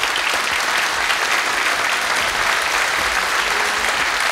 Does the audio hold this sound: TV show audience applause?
yes